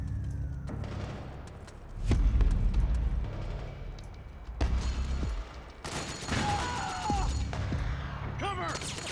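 Gunfire in the PS3 game Metal Gear Solid 4: Guns of the Patriots, bursts of rapid shots and loud impacts amid battle noise, with soldiers' shouted voices over the fighting.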